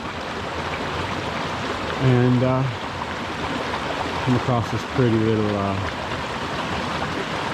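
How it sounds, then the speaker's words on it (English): A small stream tumbles over little falls and rapids at a trail crossing, a steady rushing wash heard close throughout while someone talks over it. "A little bit of falls coming down through here. A little rapids."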